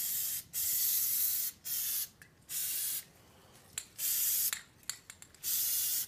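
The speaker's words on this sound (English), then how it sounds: "just spray the developer on," Crack-detection developer sprays from an aerosol can onto a cylinder head in repeated bursts of hiss, some long and some short and choppy, separated by near-silent gaps.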